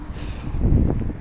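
Low, rumbling buffeting of wind hits the microphone, swelling stronger midway through the short stretch with no voices.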